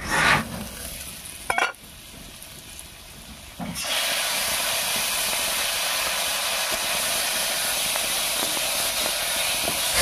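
Ginger and green chili paste hits cooking potatoes in an uncovered pot. After a few brief knocks, a loud, steady hiss and sizzle takes over and holds for the rest of the clip.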